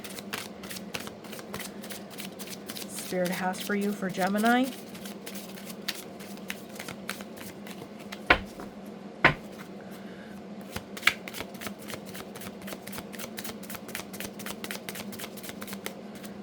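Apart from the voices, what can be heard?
shuffling tarot cards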